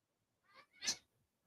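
A single close, quiet cat meow, a brief two-part call that rises and then fades in the stillness.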